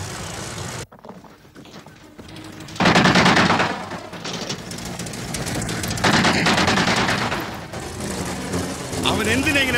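Loud bursts of rapid gunfire, like machine-gun fusillades, rattle across a desert scene in a Malayalam action film. Clusters of shots are separated by engine rumble and raised voices.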